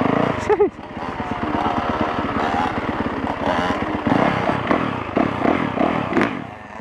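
Motorbike fitted with street tires ridden on slippery ground: a close, revving engine drone that surges and sputters unevenly, with a sharp burst near the start and faint clatter.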